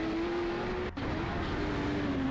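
Black Jaguar XJ6 banger racing car at Standlake Arena, heard from inside the car: a loud, steady engine drone with a sustained tone, briefly cut off for an instant mid-run before carrying on.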